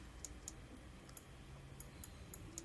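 Someone types a command on a computer keyboard, giving a few sparse, faint, irregular key clicks against quiet room noise.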